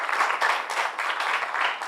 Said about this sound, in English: Give them a better round of applause, please.